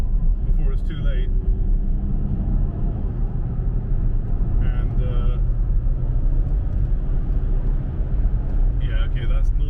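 A V6 turbo all-wheel-drive family car is driven fast, heard from inside as a steady low road rumble and engine drone throughout, with a few brief higher whines, and a person talking over it.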